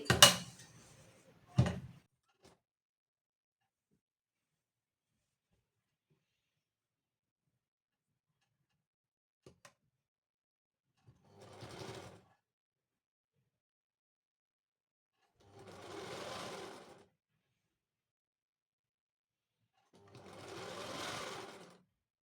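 Sewing machine stitching a kurti sleeve runs in three separate bursts of a couple of seconds each, with quiet gaps between, after a couple of sharp knocks at the start.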